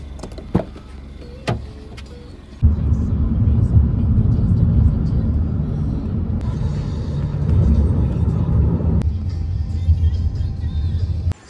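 A Lyft ride car starts up with a sudden jump into loud engine and road rumble after a few quiet seconds with a door thump, then drives steadily before the noise eases near the end.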